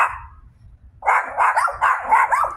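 Dogs bark and yip in a quick, excited run of several barks at someone outside, fairly close, after a short whine at the start, in a garden after rain.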